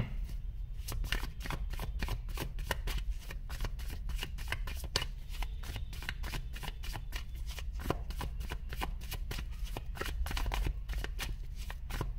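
Tarot cards are shuffled close by in a rapid, steady riffle of crisp papery slaps that runs continuously throughout.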